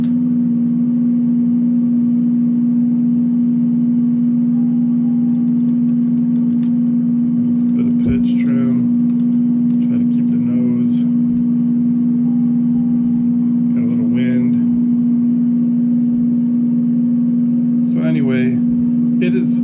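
Steady, droning aircraft engine hum from a flight simulator, heard with a light throttle increase. The drone holds level and loud throughout, with a few brief, faint voice-like sounds over it.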